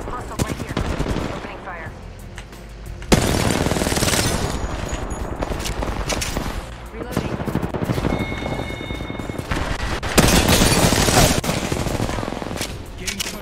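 Dense automatic weapon fire crackles in Apex Legends, with long loud bursts and overlapping volleys from close range, breaking off briefly and then resuming even louder toward the end.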